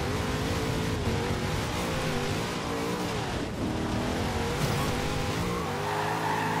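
A Forza Horizon 2 car, a tuned V8 Kombi, skids through a handbrake turn with sustained squealing tires over a loud revving engine, continuous and close for several seconds, with no talk.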